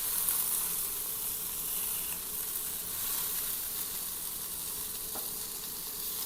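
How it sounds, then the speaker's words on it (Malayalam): Already cooked fish marinated with tamarind and salt fries slowly in a pan, giving off a steady, close sizzle and hiss that holds evenly throughout with no voices. "അതൊന്ന് പതുക്കെ ഒന്ന് നമുക്ക് വറുത്തെടുക്കാം"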